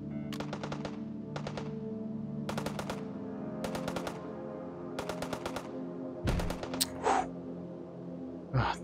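Turret fire in the VR shooter Hot Dogs, Horseshoes & Hand Grenades comes in rapid machine-gun bursts, roughly seven volleys with short gaps, loud and close, followed by a few heavier single impacts.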